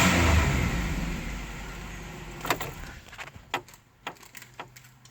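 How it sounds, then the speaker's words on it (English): A 2004-2008 Pontiac Grand Prix with a Buick 3800 Series III engine revs on jack stands against its rev limiter. A loud roar opens the clip and fades, followed by scattered sharp clicks and taps close by. "Nothing better than revving a motor on jack stands, right?"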